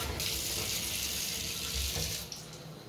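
Shower water running in a bathroom, a steady, loud hissing spray that continues unbroken for several seconds, then thins slightly near the end.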